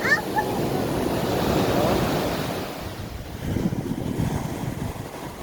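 Surf rolling onto a shore, heard as a steady broad wash with wind buffeting the microphone and swelling again near the end, with no voices.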